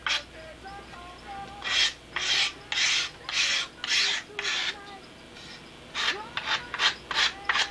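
Close, repeated rasping strokes of sandpaper on the edge of a small plywood sanding block, in short back-and-forth bursts with brief pauses between them.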